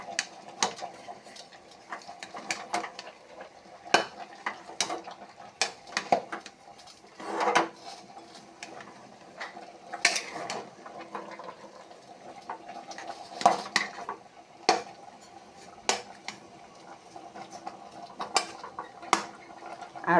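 A spoon scrapes and clinks against a metal cooking pot while Chaitra Sankranti panchan is stirred, giving repeated irregular sharp taps and rattles over about twenty seconds, close and clear with no talk.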